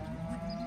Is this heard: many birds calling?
no